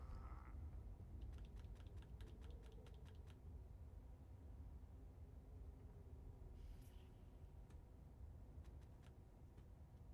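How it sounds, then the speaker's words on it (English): A computer mouse is clicked rapidly while playing Elder Scrolls Online, giving a quick run of about a dozen faint, crisp clicks, then a few scattered clicks later. The clicks sit over a soft, steady background hum. "I'm clicking all around."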